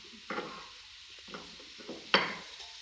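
Food fries and sizzles in a home kitchen pan as it is stirred, with scraping bursts and a sharper clatter near the end over a steady hissing background.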